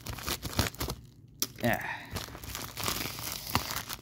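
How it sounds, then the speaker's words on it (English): Scissors snip and tear open a plastic-wrapped toy package for a wooden railway Bill and Ben set, crinkling and crunching at close range while a voice speaks over it. "let's bring out my scissors. And let's cut it open"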